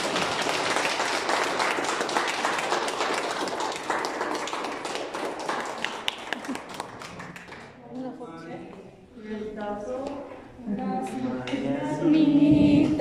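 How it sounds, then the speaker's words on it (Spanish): Churchgoers at a baptism give a long round of applause for little girls, steady clapping that thins out midway, followed by people talking and singing beginning near the end. "Vamos a dar un fuerte aplauso a estas pequeñitas."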